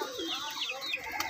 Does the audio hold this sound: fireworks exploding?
no